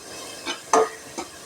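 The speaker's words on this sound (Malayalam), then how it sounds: "എന്നിട്ട് നമുക്ക് മീനിട്ട് കൊടുക്കാം." Fish dropped into a simmering vinegar curry in a home kitchen: three soft splashing, stirring sounds, the middle one louder and sharper, over a faint simmer with no talk.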